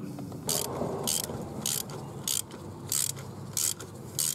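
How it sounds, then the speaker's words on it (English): A hand ratchet clicks through seven quick, even bursts up close as a spark plug is snugged down into an engine during a plug and wire change. "And then get the ratchet and snug it up."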